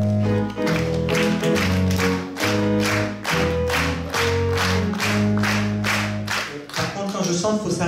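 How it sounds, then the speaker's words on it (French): A theatre audience at a comedy show claps together in steady, evenly spaced beats, loud and close, with a tonal musical backing running beneath. The rhythm falters briefly near the end. "Si c'est pour applaudir, c'est tous ensemble, sinon c'est pas la peine."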